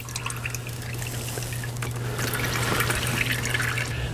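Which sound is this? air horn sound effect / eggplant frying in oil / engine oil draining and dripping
engine oil draining and dripping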